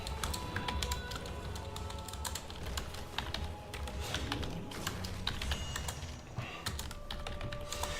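Rapid computer keyboard typing while messaging teammates during a Heroes of the Storm match, a steady stream of close, crisp key clicks running throughout over quiet game sounds.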